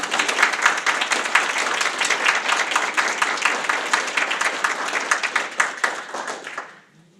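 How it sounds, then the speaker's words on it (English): A room at a 2018 Fairfield County School District board meeting breaks into a sustained round of applause, crisp overlapping claps at an even level that trail off near the end. "Please join me in giving a round of applause."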